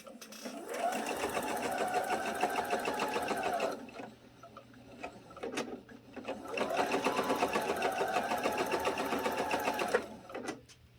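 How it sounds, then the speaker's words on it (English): A new home sewing machine stitches a puppy-themed quilt block in two long, steady bursts of rapid mechanical whirring, close by, with a quieter pause between them and faint handling sounds. "So we're going to sew this up."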